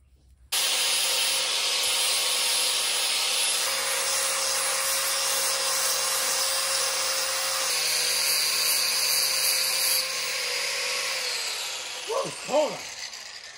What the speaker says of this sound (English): I cut about an inch and a half off, beveled both edges really good with a flap disc on the grinder